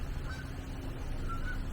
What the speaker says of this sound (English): Can you hear the geese? The migratory geese are flying over.